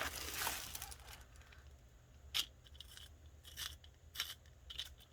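A small pencil sharpener grinds a pencil in several short, scratchy bursts, close and fairly quiet, following a louder rustle at the start.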